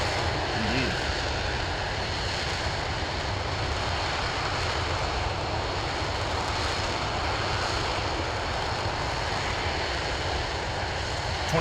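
Engine roar from RS-25 engines of the SLS rocket during ascent, recreated in the game Kerbal Space Program 2, as a continuous loud broadband rumble that holds steady without a break, with faint voice underneath.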